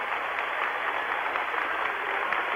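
An arena audience at a 1988 rhythmic gymnastics European championship applauds steadily, a dense even wash of clapping held at moderate distance for the whole stretch with no break.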